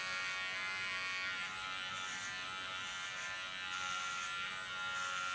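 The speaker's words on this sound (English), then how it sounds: "use my clipper as a comb" An electric hair clipper, used like a comb at about 4 mm, runs through short hair with a steady, fairly quiet buzz that holds for the whole stretch with little variation and no talking.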